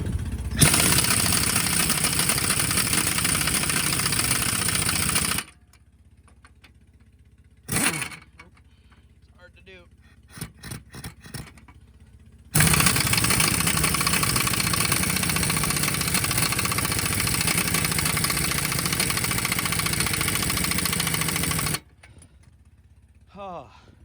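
A log truck engine idles steadily at half choke, loud and close, in two long stretches separated by quieter gaps with clanks and a few brief tool sounds.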